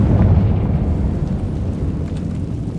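Spell explosions cast as Bombarda and Confringo in the Hogwarts Legacy video game: a loud, dense low rumbling blast that starts at full strength and holds steady, slowly fading over a few seconds.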